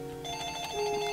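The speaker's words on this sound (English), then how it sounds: "And my phone rings." A phone rings with a steady electronic ringtone held throughout, fairly loud and close, under faint background game music, with no talk.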